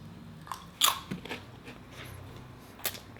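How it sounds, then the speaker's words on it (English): Potato chips crunch under close bites: a sharp crunch near the start, a few softer chews after it, and another crisp bite near the end, all quiet and up close with no talking. "potato chips"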